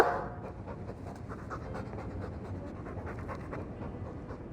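Mabari war dog in Dragon Age II panting rapidly and steadily, a close, soft breathy rhythm that continues without pause.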